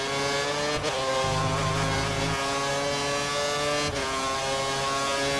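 Formula 1 race cars in the busy pit lane of the video game F1 2013 give a continuous high engine whine with shifting tonal pitches, loud and close, without speech.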